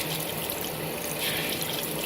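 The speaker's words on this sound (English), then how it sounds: "I'm just squeezing, squeezing, squeezing under the running water, and it's helping the soap get through it." A makeup blender sponge squeezed under a running tap, with water splashing steadily and evenly at close range from start to finish and no voices.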